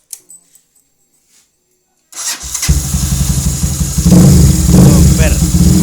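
Near silence with faint clicks, then a Honda CB fuel-injected motorcycle fitted with a racing injector cranks and fires up, settling into a loud, close, throbbing idle that swells slightly toward the end.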